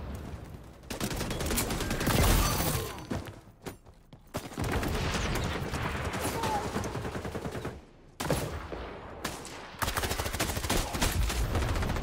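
Dense automatic gunfire from the XDefiant shooter game, loud and close, in long sustained bursts broken by a few short pauses, with a player's voice talking over it at times.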